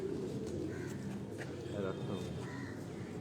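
Golden pigeons kept at home give soft, low coos over a few seconds, close by, with people talking over them.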